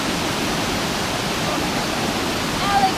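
A waterfall at Vogel State Park rushes in a steady, broad wash of water noise that fills the whole moment without pause.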